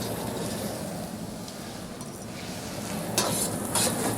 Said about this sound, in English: Some toasted sultanas, raisins and almonds. And just to warm them,